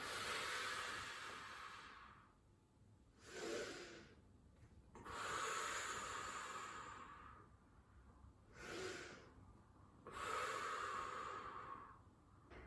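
Slow, deep breathing during a spinal extension exercise, with long inhales and exhales that repeat in a steady rhythm, close and clear, with no talking.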